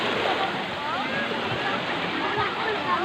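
Sea waves on a beach, a continuous broad wash of surf and spray close by, steady and loud throughout with no clear breaks between waves.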